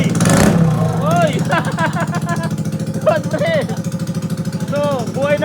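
A Yamaha NMAX Turbo scooter engine blips and revs close by with a rapid, pulsing idle between rises, while someone talks loudly over it.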